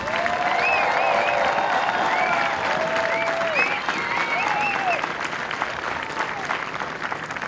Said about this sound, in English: So let's give our MTIs a large round of applause.